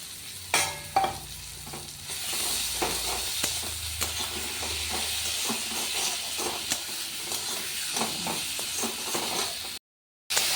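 Spice paste with onion and tomato being stir-fried in a pan for a fish curry, a steady sizzle with scraping stirs and spoon taps throughout, close and fairly loud, briefly cutting out near the end.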